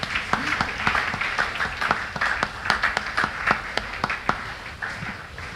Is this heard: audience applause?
yes